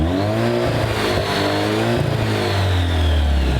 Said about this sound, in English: Here's a quick exhaust clip.